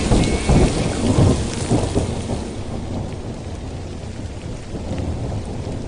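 Heavy rain pours down steadily in a thunderstorm, with deep rolling thunder rumbling loudly through the first seconds and continuing beneath the dense, constant downpour; no voices.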